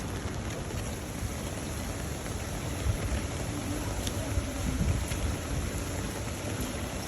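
Steady rain falling on a wet day, a constant dense hiss with faint low rumbles that may be distant thunder, no talking heard.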